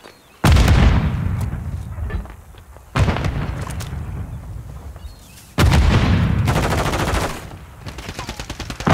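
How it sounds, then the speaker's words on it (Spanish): Grenade blasts in Call of Duty: Modern Warfare III, three loud near booms spaced a few seconds apart, each with a long rumbling decay, the last mixed with rapid gunfire. "¡Va granada!"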